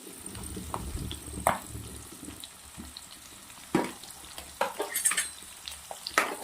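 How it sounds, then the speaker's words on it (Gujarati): Onions, green garlic and green chilies fry in a pan for a Kathiyawadi green pigeon pea curry, giving a steady close sizzle with occasional louder stirring scrapes and clinks, no talking. "થોડી વાર આપણે આને શેકી લેશું બેથી ત્રણ મિનિટ ડુંગળીનો થોડો કચાશ નીકળી જાય એવું શેકવાનું"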